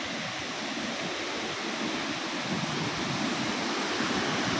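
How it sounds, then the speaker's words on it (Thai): A waterfall at Khao Phu Ta Baeng pours in a steady, dense roar of broadband rushing water, close and constant with a slight swell toward the end, with no voices. "โอ้ น้ำตกสวยมากฮะดูนี่"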